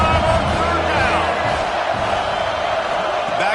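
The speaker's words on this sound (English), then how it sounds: "the Buckeye crowd alive on 3rd down" An Ohio State Buckeyes stadium crowd at a football game against the Trojans roars loud and sustained on third down, a dense unbroken wall of cheering with an announcer's voice talking over it.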